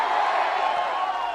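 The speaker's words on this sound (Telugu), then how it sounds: "గట్టిగా చప్పట్లు కూడా చెప్పండి." A crowd at a political rally claps and cheers in a brief, dense, continuous roar of many voices and hands.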